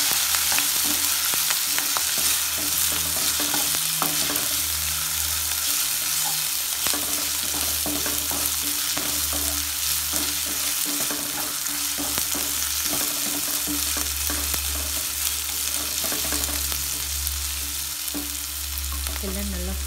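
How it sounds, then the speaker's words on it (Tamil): Ginger garlic paste sautéing in a pan for tomato rice, a steady loud sizzle with intermittent stirring scrapes throughout, no talk. "இப்போ இஞ்சி பூண்டு பேஸ்ட்டை நல்லா மிக்ஸ் பண்ணிவிட்டு அதோட ஸ்மெல் போகிற வரைக்கும் ஒரு 1 மினிட் நல்லா வதக்கி"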